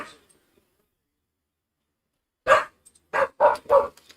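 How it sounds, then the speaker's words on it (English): A pet dog named Rue barks in a short series of four sharp, close barks after a long quiet stretch, likely calling to a neighbor's dog outside. "What are you barking at?"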